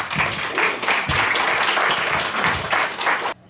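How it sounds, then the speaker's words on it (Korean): Sustained applause from a sizable forum audience welcoming a speaker, steady and fairly loud, ending abruptly near the close. "많은 박수로 환영해 주시기 바랍니다"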